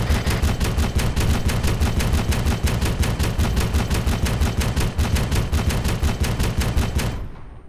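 Rapid, steady machine-gun fire in a military video game, loud, close and evenly rhythmic, dozens of shots in an unbroken stream that cuts off abruptly near the end.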